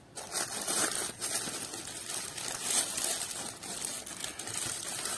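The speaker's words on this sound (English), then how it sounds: "I do enjoy the package openings." A package is torn open and its wrapping crinkled by hand, with close, steady rustling and crackling throughout and no talking.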